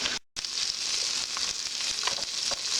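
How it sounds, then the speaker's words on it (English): Vegetables with green peppers sauteing in a pot on medium-high heat for lasagna, a steady, fairly soft sizzle and crackle running throughout with one brief dropout near the start. "I'm gonna just let this, like, saute this for 10 minutes on medium high"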